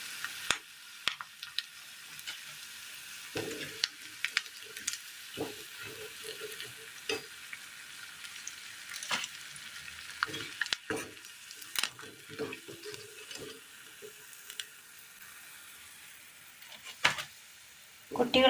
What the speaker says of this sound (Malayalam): എണ്ണയിലാണ് നമ്മൾ വറുത്ത് കോരുന്നത്